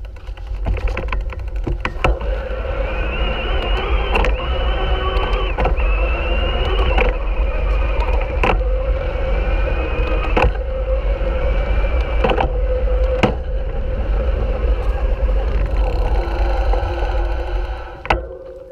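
A Bafang MAX mid-drive electric bike motor whines steadily while riding over varied terrain, its pitch shifting slightly with repeated sharp clicks from gear changes, loud and close with constant rolling rumble beneath and no talking.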